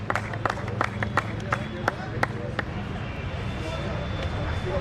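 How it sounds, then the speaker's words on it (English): Scattered claps from a small audience at a sports league prize ceremony, irregular and fairly close at first, then fading into a murmuring crowd. "Everyone please clap for Sherry."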